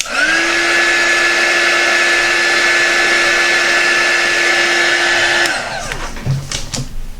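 A heat tool blows on a resin lotus-and-geode coaster made with Famowood and Coloura, giving a loud, steady, high-pitched whir that holds for about five seconds, then shuts off and winds down, followed by faint handling sounds.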